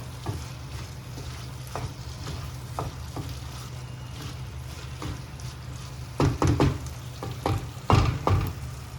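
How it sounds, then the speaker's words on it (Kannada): Prawns and potatoes stirred and fried together in a pan, a steady low sizzle with irregular scraping and knocking strokes of the spoon that grow louder and denser toward the end. "ಪ್ರಾನ್ಸ್ ಮತ್ತು ಇದು ಪೊಟ್ಯಾಟೊ ಚೆನ್ನಾಗಿ ಮಿಕ್ಸ್ ಮಾಡಬೇಕು."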